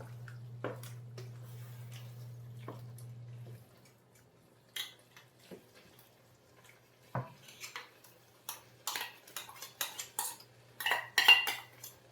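Metal utensil scraping and clinking against a cooking pot while food is stirred, a string of irregular close scrapes and taps in a quiet kitchen after a steady low hum fades out.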